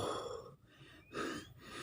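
Heavy, ragged panting from a person who has just climbed down during a bee-nest harvest in hot weather, with several loud gasping breaths close to the ear and brief pauses between them.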